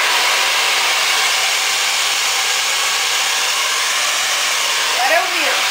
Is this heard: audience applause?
no